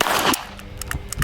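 Beretta Bobcat Inox .22 LR pistol firing a few sharp, close shots spread irregularly across a short burst rather than steady rapid fire.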